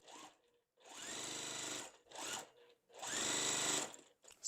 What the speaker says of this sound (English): all we're doing is sewing our B pieces to our F piece right here.